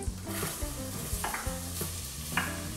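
Onion and garlic sizzle in a pot for a seafood dish, a steady close hiss broken by light scraping strokes from stirring.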